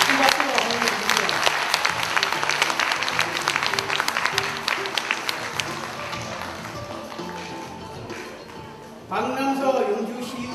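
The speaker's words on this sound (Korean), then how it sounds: "큰 박수로 환영해 주십시오." A ceremonial audience at the 100th anniversary of the Daehan Gwangbokdan's founding applauds to welcome a guest. Brisk, dense clapping fills the first eight seconds and then fades, and a voice begins speaking near the end.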